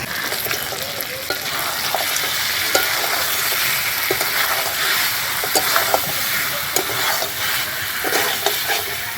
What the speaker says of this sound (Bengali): মাছের মাথাগুলো দিয়ে একটু নাড়াচাড়া করেই কিন্তু জল দিয়ে দেব